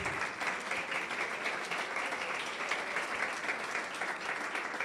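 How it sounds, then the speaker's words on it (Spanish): Steady applause from a church congregation during a worship service, a dense, even patter of many hands clapping for about five seconds, fairly faint and with no talking over it. "Un aplauso fuerte, fuerte para el Señor."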